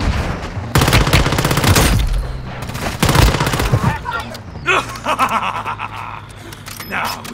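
Close, heavy automatic gunfire in Warzone Mobile erupts in two dense bursts, followed by scattered lighter shots and mechanical clicks, with a voice speaking over part of it.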